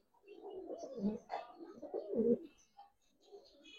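Pigeons coo softly nearby, Giribaz and coloured breeds, giving a few throaty, rolling calls in short bursts with brief pauses between them, quiet and without talk.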